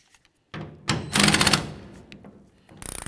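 Tailgate bolts on a 1999-2006 Chevy Silverado being loosened with a 13 mm socket, heard as a short burst of close mechanical rattling and clicking, then a brief ratcheting patter near the end.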